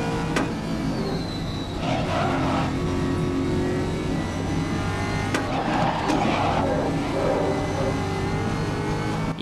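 Race cars in the video game GRID (2019) roar past during a circuit race, with an engine droning steadily alongside brief tire squeals and whooshes of passing cars, loud and continuous without speech.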